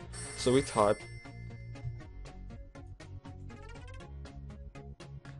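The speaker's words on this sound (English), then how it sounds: "sorry for that, that was my phone." A phone's ringtone plays a bright, chiming melody of repeated notes under a voice, with a louder trill near the start.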